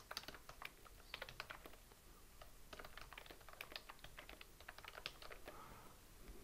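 Typing on a computer keyboard while writing code comments in a function file, a steady run of quick, close key clicks with short pauses, no talking.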